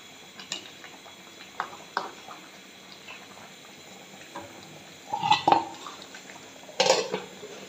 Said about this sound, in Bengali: দিয়ে আবার ঢাকনা দিয়ে ঢেকে দিব।